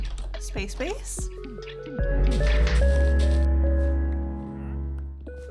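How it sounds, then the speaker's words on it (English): A Minecraft wandering trader murmurs in short nasal grunts, with squishy, dripping liquid sounds, then a steady droning tone lingers underneath. "that is the sweet sound of a traveling merchant"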